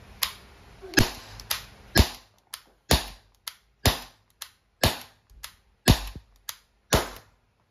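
Umarex T4E TR50 CO2-powered tactical revolver firing about a dozen sharp, snappy pops at uneven intervals of roughly half a second to a second, close and clear with little else between shots.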